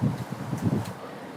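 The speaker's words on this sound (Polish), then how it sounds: "wiatr się zrywa" Gusty wind buffets the microphone in low rumbling bursts that swell and fade, then settle into a softer steady rush.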